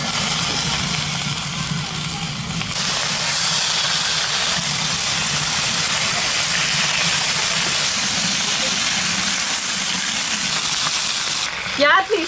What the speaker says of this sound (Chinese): 锅里不倒油，放入鸭腿煎